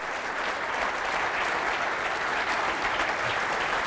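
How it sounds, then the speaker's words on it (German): A theatre audience at a German Audi Star Talk event applauds steadily, a dense, even wash of clapping that holds at a constant level from start to finish without any voices. "vielleicht ein kleiner Applaus, Dankeschön"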